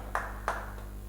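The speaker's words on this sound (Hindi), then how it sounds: "तालियां, गड़गड़ाहट" A couple of sharp claps at a small felicitation ceremony for a NEET 2020 success in Sikar, two distinct hand claps and a fainter third, sparse and thin rather than a full crowd.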